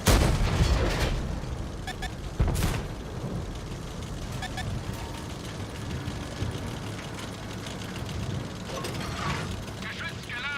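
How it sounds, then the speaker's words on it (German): Mechanical clanks and ratcheting as a tank's main gun is loaded in a Cold War tank combat game, with a sharp heavy report early on, then continuous clattering and rumble at steady loudness, with voices talking over it. "Geschütz geladen."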